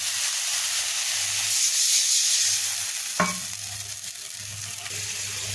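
Spiced masala for a rohu fish curry fries and is stirred in a pan, a steady close sizzle with scraping strokes and a sharp clank of the spoon midway.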